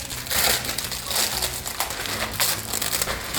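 Graham crackers being crushed inside a Ziploc bag for a dairy-free blueberry cheesecake, a continuous loud crunching and crinkling with rough bursts that rise and fall throughout.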